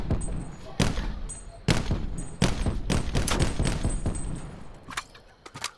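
Rapid bursts of gunfire in Call of Duty Blackout, several loud volleys in quick succession with brief pauses between them.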